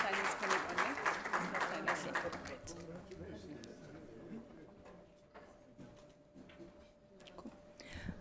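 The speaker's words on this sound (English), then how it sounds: "Round of applause for the University of Northwest University." Applause from a university research-plan launch audience rises loudly at first, then thins into scattered claps that fade beneath low room noise and some talk.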